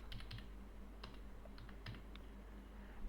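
Soft keystrokes on a computer keyboard as a password is entered, a few light clicks in a short uneven run over a steady background hum.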